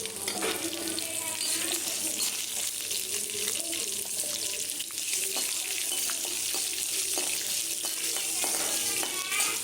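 Tomatoes sautéing in a pan for Brahmi leaves chutney, a continuous loud hiss of frying with stirring scrapes running throughout the whole stretch.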